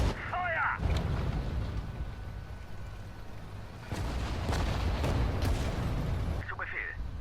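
Artillery booms in the World War II strategy game Sudden Strike 4, several heavy thuds over a continuous rumble of battle, with brief unit voice lines at the start and end.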